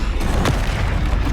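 A Confringo explosive spell blast in Hogwarts Legacy, a single booming burst near the midpoint over steady game ambience.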